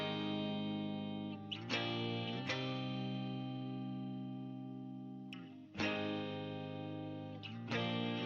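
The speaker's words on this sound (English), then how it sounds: "it was this sample, which was like a acoustic guitar" An acoustic guitar sample, heard unprocessed for a hip-hop beat, rings out in sustained strummed chords with a few fresh attacks and chord changes, close and steady, no voices over it.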